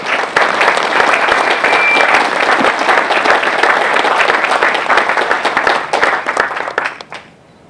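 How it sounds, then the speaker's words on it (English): Loud, close applause from a crowd at a robotics company ribbon cutting, many hands clapping in a thick continuous burst that carries on for several seconds before tapering off and stopping. "So please give a warm applause to Mary Ray Carter"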